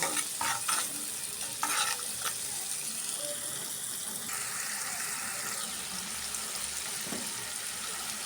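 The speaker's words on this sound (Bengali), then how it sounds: "এখন মশলাটি পেঁয়াজের সাথে একটু কষিয়ে নেব" Masala with onions, salt and a little water fries in a pan as it is stirred, giving a steady close sizzle with a few scraping stirs near the start.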